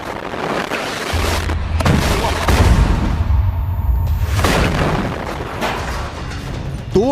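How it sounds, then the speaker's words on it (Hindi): Heavy booming explosions and bursts of gunfire rumble through a chaotic battle in the Israel–Hamas war in Gaza, some blasts close and loud, others more distant. "बहुत से हमले हैं, बहुत से धमाके हैं।"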